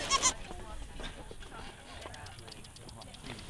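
Goats bleat at an outdoor goat yoga class: a short, loud bleat at the start, then faint scattered bleats and rustling over background chatter.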